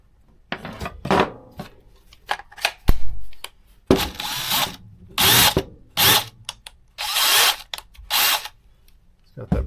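Craftsman brushless cordless drill from an Rp+ combo kit, spun in several short bursts of whirring with handling clicks between them, close by, with brief speech nearby.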